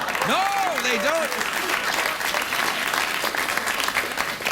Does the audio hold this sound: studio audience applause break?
yes